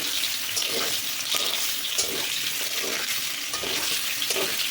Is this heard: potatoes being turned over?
yes